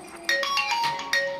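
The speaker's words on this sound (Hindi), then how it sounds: "फोन आ गया इसलिए थोड़ा सा रोक देते हैं" An incoming call sets off a phone ringtone, a bright melodic electronic tune of quick repeating notes that plays loud and close with no talk over it.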